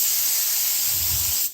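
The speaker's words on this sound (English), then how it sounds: "I had to spray it on both sides" Aerosol spray hissing steadily onto foam padding of a car or truck seat during an upholstery repair, a continuous close spray lasting over a second before cutting off.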